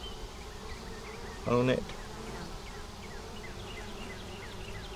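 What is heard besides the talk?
honey bees buzzing around a hive frame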